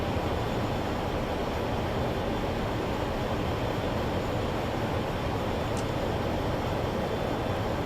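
An F-18 Super Hornet's jet engine roars on afterburner in Microsoft Flight Simulator, a loud, continuous broadband rumble that holds steady without break.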